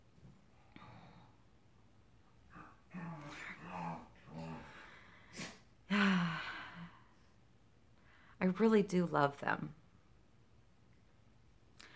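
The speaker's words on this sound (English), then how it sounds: "I'm sorry about the dogs in the back." Dogs whimper and growl in the background of an indoor room while someone talks over them, with a short burst of whiny dog vocalizing near the end.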